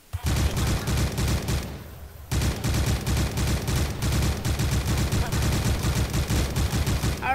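In the Minecraft Ferullo's Guns Mod, an ACR rifle fitted with an ACOG fires rapid, loud, unbroken bursts of automatic gunfire, stopping briefly once before resuming at full intensity.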